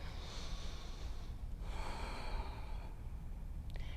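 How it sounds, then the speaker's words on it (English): Steady breathing during a yoga flow class in a studio, with a long broadband exhale, then a second longer breath a moment later, close and moderately loud, no talking. "Drop the head and breathe."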